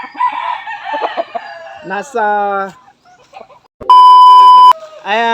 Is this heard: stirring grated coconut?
no